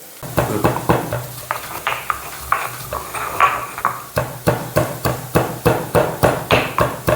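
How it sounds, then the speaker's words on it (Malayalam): Mustard seeds crushed by hand on a stone grinding block while making bitter gourd pachadi, a series of sharp repeated knocks, irregular at first then settling into a steady close rhythm, with no talking. "കല്ലേൽ, നമ്മുടെ ഇടികല്ലേൽ ഇങ്ങനെ പതുക്കെ കളയാതെ ചതച്ചാൽ മതി"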